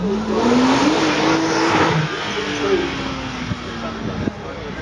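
A white GT2 supercar accelerates up a hill on a track at a supercar event. The engine revs loud and near as the car passes, and a commentator talks over it.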